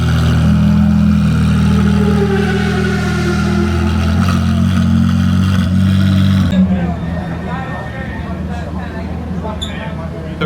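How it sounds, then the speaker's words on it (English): Race cars on a track doing warm-up laps before a race, a loud continuous engine roar close by for most of the stretch, then easing into a rougher, fainter rumble near the end. "We got race cars racing on the track as we speak, doing warm-up laps for the race."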